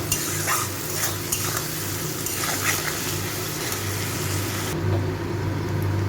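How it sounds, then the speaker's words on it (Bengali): Potatoes and onions fry with salt in a pan, a steady close sizzle broken by repeated stirring scrapes and light utensil knocks against the pan, no talking. "আলু পেঁয়াজটা ভাজা হয়ে গেছে"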